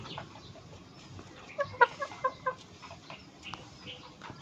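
Four-month-old grey gamefowl chickens cluck in a short run of sharp, close calls against a low background murmur of the yard, with no talking.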